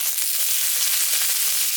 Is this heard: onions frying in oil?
yes